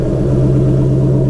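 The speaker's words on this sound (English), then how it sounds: "This is one of the loudest road cars." An Aston Martin road car with a manual gearbox has just started, its engine settling into a loud, steady idle rumble with a strong low hum throughout.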